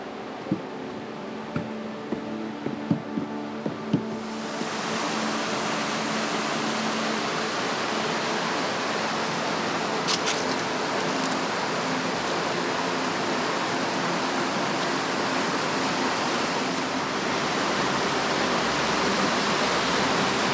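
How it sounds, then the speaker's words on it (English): Water rushes over the natural rock water slides of Meadow Run in a Pennsylvania state park, a steady, full roar that swells in after a few seconds of quieter outdoor sounds and footsteps and then holds without a break. "let's stop and walk along the natural water slides at Meadow Run"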